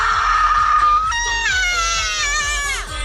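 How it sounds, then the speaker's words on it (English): A woman screams inside her car, a long high-pitched cry that breaks and rises into a strained, wavering shriek, loud and close over a low engine hum. "she suggested that I scream in my car"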